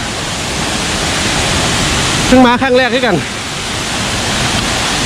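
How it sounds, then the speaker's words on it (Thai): Yung Thong waterfall in Na Yung–Nam Som National Park, Udon Thani, keeps up a steady, loud roar of falling water while someone speaks briefly over it midway. "นี่เป็นน้ำตกยุงทองครับผม"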